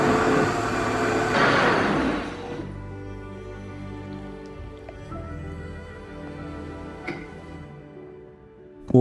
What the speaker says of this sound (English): Blend on medium speed until smooth.